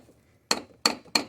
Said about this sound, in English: Starting with a soft face hammer here, see if we can get some